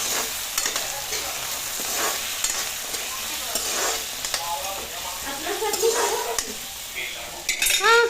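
Tomatoes sizzle in a pan as a utensil stirs and scrapes through them, with crackling frying throughout and intermittent clinks and scrapes, close and moderately loud.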